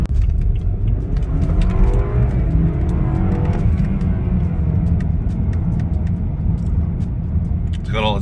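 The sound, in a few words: repaired turbocharged BMW car driving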